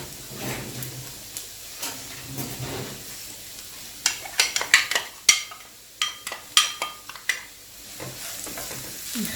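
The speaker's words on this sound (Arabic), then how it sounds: "وغادي نضيف لها البصله باش تشحر." Chopped onion sizzling in hot sunflower oil in a pan, a soft steady hiss broken by scraping stirs and crackling pops midway.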